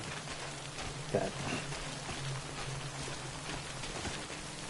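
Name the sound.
timefall rain in the video game Death Stranding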